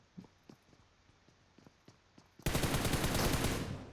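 A burst of M416 rifle fire in the shooter game PUBG Mobile, loud and dense for over a second after a run of faint, spaced single shots or footsteps.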